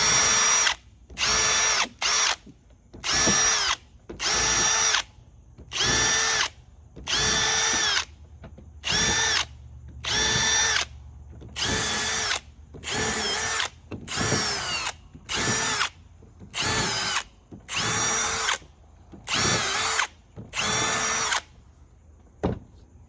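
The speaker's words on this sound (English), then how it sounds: "you want to make sure you pre-drill your holes so it doesn't split the wood" A power drill pre-drills holes in pallet wood in repeated short bursts, about a dozen whirring pulses separated by brief pauses, close and loud.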